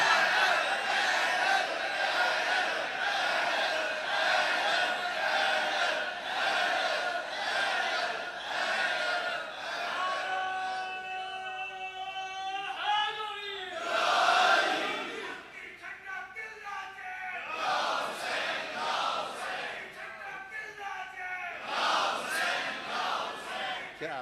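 A crowd at a religious gathering chants slogans together in loud, rhythmic call-and-response bursts, broken by brief gaps.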